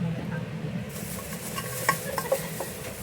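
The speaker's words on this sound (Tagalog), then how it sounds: "magigisa rin kami ng kamote na may Hokkaido" Sweet potato with Hokkaido sautéing in a pan gives a soft sizzle with stirring scrapes and light clinks of a utensil against the pan, fairly close and with no talk over it.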